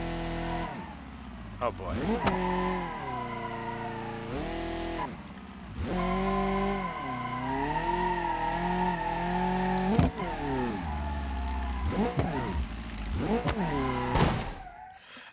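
A nitrous-boosted car in BeamNG.Drive accelerates in first gear, with a loud engine roar whose pitch climbs and drops in repeated sweeps between gear changes and brief lulls, under occasional speech.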